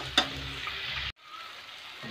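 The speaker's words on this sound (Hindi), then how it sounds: "दोस्तों टमाटर और प्याज को स्पून के सहारे थोड़ा सा मिक्स कर लेना है" Tomato and onion frying in a pan while stirred with a spoon, a close steady sizzle with a brief metallic clink near the start, cut off abruptly and resuming softer.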